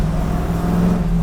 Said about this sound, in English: that exhaust sounds really, really good